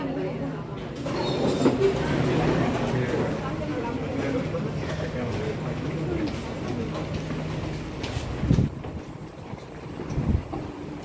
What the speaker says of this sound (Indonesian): Nah, udah nyampe MRT-nya.